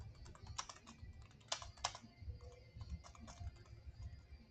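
Quiet computer keyboard typing while writing a C program: a soft, irregular patter of keystrokes with a few sharper clicks, close by and without speech.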